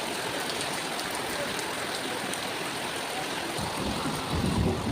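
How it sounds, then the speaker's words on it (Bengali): Heavy monsoon rain falling outside a house, near a guava tree, makes a dense, steady hiss and patter that holds at the same loud level throughout with no voices. "এখন দেখো বেলা বাজে 1:30, বৃষ্টি হচ্ছে, জোরে বৃষ্টি"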